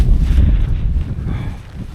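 Strong wind buffets the microphone on an exposed mountain summit on Madeira, a loud broadband rumble that stays steady for two seconds before easing slightly, with no voices.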